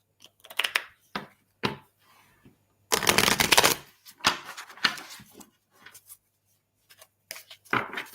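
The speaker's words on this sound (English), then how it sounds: "I'm going to pull some more cards for you." Tarot cards are shuffled during a reading in several quick riffling bursts, the longest near the middle, separated by quiet pauses and soft card handling sounds.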